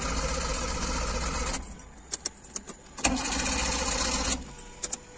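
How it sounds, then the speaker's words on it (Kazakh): A Chinese FAW four-cylinder car engine, one that cranks when cold but not once warmed up, runs close by with a steady drone. It drops away, a few sharp clicks and taps sound, then the drone returns and fades again near the end. "Мына мотордың жұмыс жасауы"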